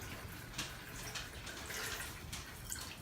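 Water pouring into a watering container while refilling it to water indoor house plants, a soft continuous splashing trickle with a few small drips, close and fairly quiet.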